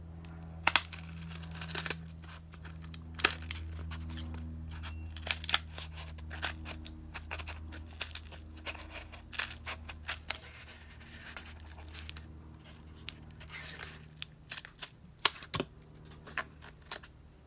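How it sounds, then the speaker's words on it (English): Scissors cut a piece of paper for a school technology project, producing a quiet series of close, irregular snips and crisp rustles spread across the stretch, with no talking. "I'm going to take my scissors and I'm actually going to cut this off here."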